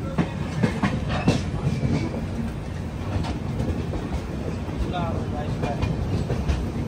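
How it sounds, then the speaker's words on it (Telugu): Visakhapatnam–Kollam Express rolling over the Godavari road-cum-rail arch bridge near Rajahmundry, with a steady loud rumble and rhythmic clickety-clack of wheels on the rails continuing throughout. "మన ట్రైన్ గోదావరి బ్రిడ్జ్ పై నుంచి వెళ్తుంది."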